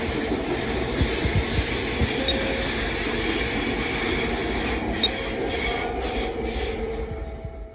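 A Queensland Rail Brisbane City and Gold Coast train rumbles steadily through a station, wheels squealing faintly over a continuous loud roar of carriages and hiss, with no voices.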